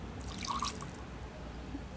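Water is poured into a coarsely ground spicy chutney of tomato, peanut, sesame and chilli in a grinder, making a brief soft splash and trickle over low background hiss.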